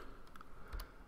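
Quiet keyboard typing at a computer, a few soft key clicks spread over about a second, faint against low room hiss.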